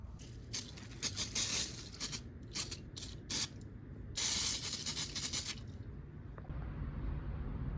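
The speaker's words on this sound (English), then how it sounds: "we'll just hit this with a bunch of brake clean, make it all nice and clean" Brake cleaner sprayed onto a Legend race car's brake caliper, several hissing bursts of varying length, close up, ending in a thin steady hiss.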